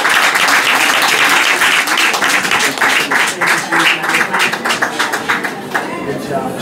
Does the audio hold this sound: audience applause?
yes